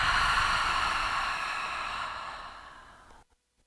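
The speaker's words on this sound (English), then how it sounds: "Cleansing breath." A single long, deep exhale of a cleansing breath during a yoga session, breathy and steady, fading out near the end with no talk.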